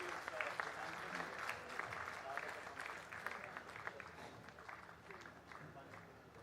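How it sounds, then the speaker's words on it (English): Steady applause from an audience at a formal ceremony, a broad crowd of clapping hands that holds at an even level throughout without letting up. "a big round of applause, please"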